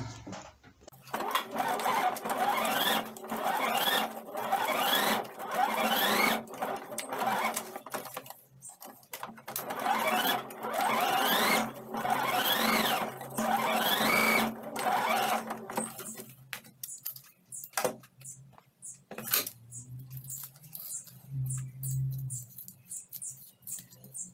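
A sewing machine stitches around fabric for a doll's head. It runs in several bursts of rapid rhythmic whirring separated by short pauses, then gives way to quieter handling noises near the end.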